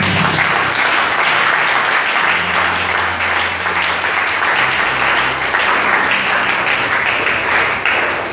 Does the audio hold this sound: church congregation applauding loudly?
yes